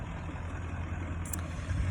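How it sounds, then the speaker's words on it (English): Road traffic passes outside as a steady low rumble of cars and trucks, a constant background drone with no voices. "pardon the traffic driving by and stuff"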